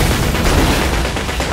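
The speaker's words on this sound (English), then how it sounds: "Ooh, explosions!" Explosions in the video game Honkai: Star Rail, a dense rumbling burst of booms and blasts filling the short moment, loud and close, with no talk over it.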